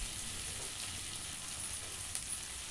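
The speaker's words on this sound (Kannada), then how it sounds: "ಇದನ್ನು ಕೂಡ ಚೆನ್ನಾಗಿ ಫ್ರೈ ಮಾಡ್ಕೊಳ್ಬೇಕು" Soya chunks and vegetables frying in a pan for chilli soya, a constant close hiss of sizzling oil with one brief stir near the end.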